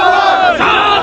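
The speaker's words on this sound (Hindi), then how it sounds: "और काफी बड़ी भीड़ है" A large crowd of protesting students shouting together, a dense continuous roar of many voices at steady high level, close and loud throughout.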